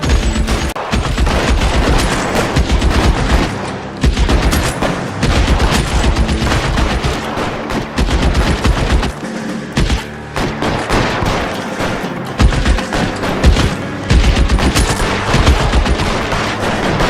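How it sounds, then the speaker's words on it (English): In the video game L.A. Noire, loud machine gun fire rattles almost without pause, with dense overlapping bursts and shots that carry on through the whole stretch. "Machine gun."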